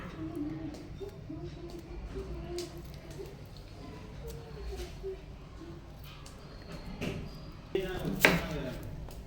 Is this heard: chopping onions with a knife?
yes